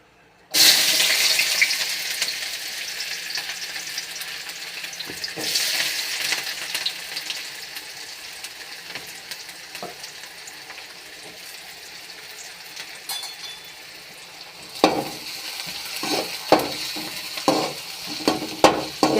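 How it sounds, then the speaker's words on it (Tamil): Onions sizzle in hot oil for a potato kurma, a loud broadband hiss starting abruptly near the start and holding steady, with sharper stirring clatters and scrapes toward the end; no one talks. "எண்ணெய் நல்லா காஞ்சிச்சுப்பா வெங்காயம் போட்டுக்கலாம்"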